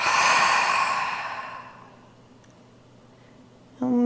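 A long, full exhale through the nose during a yoga session, close and soft, fading away to near silence before a brief sound at the very end.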